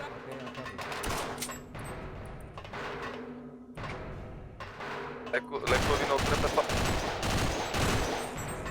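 Bursts of rapid gunfire and thuds from the video game Half-Life, loud and continuous toward the end, with people talking over it.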